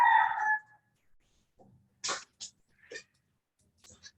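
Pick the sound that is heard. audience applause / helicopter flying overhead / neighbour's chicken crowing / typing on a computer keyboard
neighbour's chicken crowing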